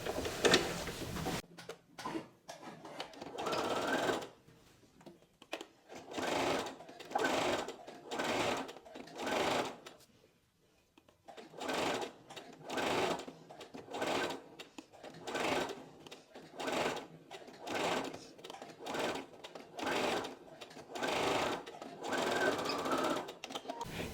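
A sewing machine stitches a seam allowance onto the front facing of a button-up blouse in repeated short bursts, each a rapid whirring run, with one longer pause partway through.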